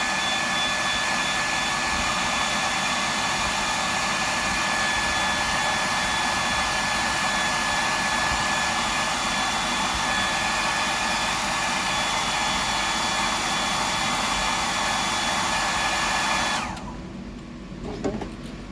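A hair dryer blows hot air to dry iridescent paint on a handmade fishing lure, a loud constant whooshing drone close by for about sixteen seconds before it switches off.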